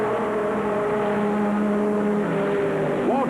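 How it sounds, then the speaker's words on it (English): NASCAR stock cars race at Darlington Raceway in 1977, a steady engine roar sustained throughout with a rising whine near the end as a car surges past. "Waltrip jams his foot to the firewall and takes the lead again"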